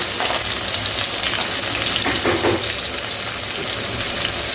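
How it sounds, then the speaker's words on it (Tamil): Bitter gourd pieces fry in hot oil for an oil-based bitter gourd curry, giving a dense, continuous sizzle and crackle with a few louder pops, close by and with no voices. "நம்ம பொரிச்சு எடுத்துக்கிறோம். கொஞ்ச நேரம் அது பொரியட்டும்"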